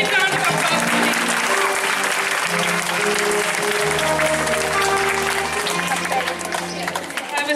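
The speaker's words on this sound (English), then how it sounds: "Please, a big round of applause for him." Audience applause at a 12th anniversary inauguration event, steady dense clapping throughout with music playing underneath, loud and close.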